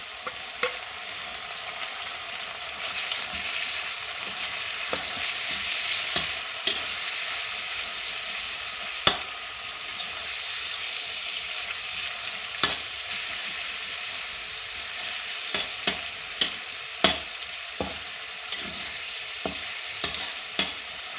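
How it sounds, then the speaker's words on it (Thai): Shrimp and minced pork stir-fry in a pan with fresh chili and garlic for a holy-basil glass-noodle dish. A constant close sizzle runs throughout, punctuated by repeated sharp spatula scrapes and clinks, with no talking. "พอเหลืองหอมแล้วเราก็จะ ใส่กุ้ง กับหมูสับนะคะ ลงไปผัด"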